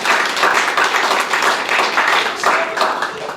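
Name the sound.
audience applause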